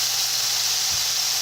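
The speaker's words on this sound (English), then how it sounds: "Bell pepper, red and green. Fry it real fast." Red and green bell peppers sizzle loudly in a hot pan as they fry fast, a steady bright hiss with no pauses and no talk.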